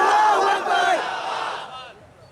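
A large crowd at a religious gathering roars a loud, unified chant in response to the Nara-e-Takbeer call, a single swelling shout that fades over about two seconds.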